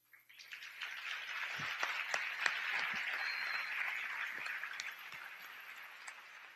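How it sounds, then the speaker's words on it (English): Applause from a high school student forum audience, faint and distant, swelling quickly and holding as a dense patter of many hands for several seconds before tapering off. "Thank you very much for this applause that you have given."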